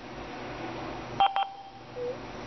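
Keypad tones dialed on an Avaya IP Office desk phone, with two or three short touch-tone beeps in quick succession over faint background hiss, followed by a softer single tone.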